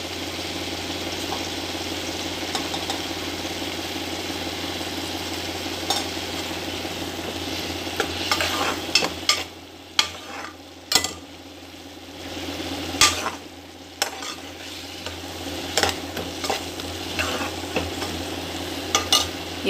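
Chopped tomatoes soften in a hot pan for a side dish to go with puri, with a steady low sizzle and occasional spoon scrapes and stirring knocks throughout.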